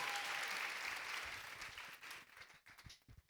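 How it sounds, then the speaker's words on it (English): Audience applause for the panelists at a tech-for-good mainstage panel, a dense sustained wash of clapping that gradually thins and fades into scattered claps near the end. "Give her and all our panelists another round of applause."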